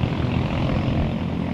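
Camera drone propellers whir loudly and close in a steady, dense buzzing drone with a windy rush, unbroken for the brief moment and with no talking.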